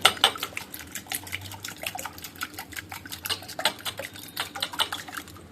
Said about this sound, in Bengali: ডিমটাকে ভালো করে ফেটিয়ে রেখে দেবো।